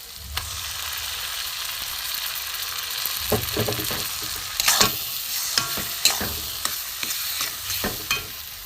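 Boiled green peas being stirred into a frying spice masala, a steady sizzle broken by repeated scraping and clacking strokes of a spoon against the pan, close and without talk.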